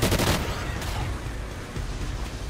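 Sustained rapid gunfire in Call of Duty Ghosts aimed at a charging rhino, a dense continuous burst that stays loud for the whole stretch without pause.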